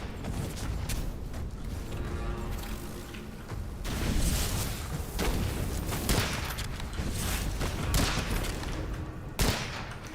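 Rifle fire in the video game Witchfire: a rapid run of sharp gunshots, some loud and close, over a constant rumbling game background with occasional mechanical creaks.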